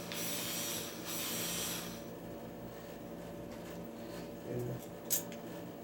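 A whirring electric screwdriver runs in two short bursts while a Nantucket Breeze stand fan is taken apart, followed by faint handling clicks and a sharp tap over a low steady hum.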